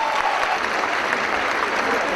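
An audience applauds after a performance by a dance ensemble, dense and sustained clapping from a large crowd that stays loud and constant throughout, with faint voices mixed in.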